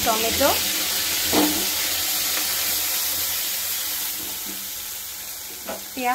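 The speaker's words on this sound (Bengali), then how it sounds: "এবার লাল লাল করে শুকনো শুকনো করে ভেজে নিতে হবে" Spice paste of onion, tomato, ginger and green chilli with nigella seeds frying in a pan: a steady sizzling hiss with a few stirring scrapes, while someone talks intermittently over it.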